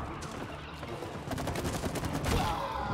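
Rapid gunfire from shooting in the video game It Takes Two, a dense run of overlapping shots that swells louder toward the end, with no talk over it.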